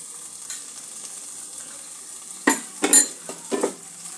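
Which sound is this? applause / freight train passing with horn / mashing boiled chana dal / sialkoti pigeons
mashing boiled chana dal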